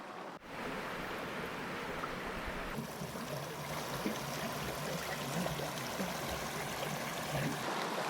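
Creek water at Lost Creek in Lassen, Northern California, rushes and burbles steadily at close range, a continuous broadband flow with no voices.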